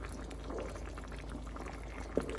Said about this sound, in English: I added a little bit more hot water.